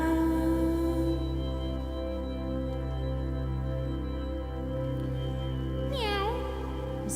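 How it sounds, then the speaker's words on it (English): Cats meowing at about six seconds, a short rising and falling call heard over a steady sustained musical drone. "This is where the cats come in."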